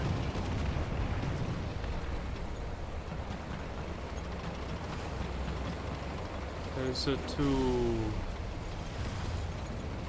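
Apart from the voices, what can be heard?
big cannon fire in video game War Thunder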